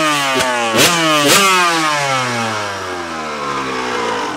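A Suzuki RM85 two-stroke dirt bike screams at high revs, its engine pitch dropping and then surging again through several quick gear changes. The bike is loud and close, with a steady buzzing drone throughout.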